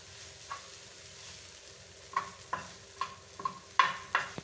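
Parotta pieces fry in oil in a pan, a low sizzle under repeated sharp scraping and stirring clicks that grow more frequent toward the end.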